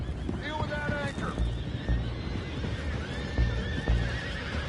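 Horses in Red Dead Redemption II whinny loudly several times over a busy background of hooves and movement, with people talking throughout.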